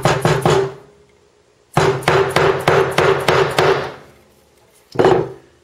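Hammer taps a lathe spur center's point into wood: a quick burst of three blows, a pause, a steady run of about eight blows, then a single strike.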